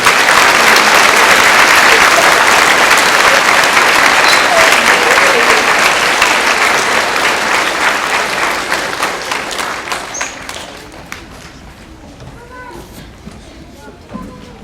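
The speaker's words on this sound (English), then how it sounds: "Let's give our servicemen and women one more round of applause." Audience at an elementary school Veteran's Day honor choir concert applauds servicemen and women, loud and sustained at first, then gradually dying away into quieter scattered sound.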